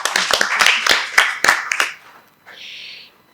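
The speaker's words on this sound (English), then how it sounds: "And another round of applause for Mr." An audience applauds at a formal event, with a short, dense burst of clapping that fades out after about two seconds, followed by a brief faint tone.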